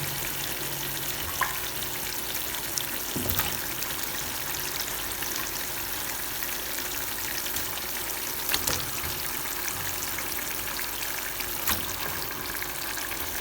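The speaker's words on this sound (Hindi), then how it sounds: "अब हम इनके अंदर डालते हैं चिकन और चिकन को हम कर लेते हैं फ्राई" Chicken pieces fry with browned, softened onions in a pan for a karahi over a high flame, a steady unbroken sizzle with a few faint clicks from stirring, and no voices.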